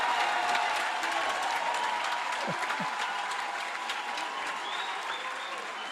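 A crowd at a squash final of the WSF Under-23 World Championships 2025 applauds and cheers loudly, the clapping steady and gradually easing over several seconds.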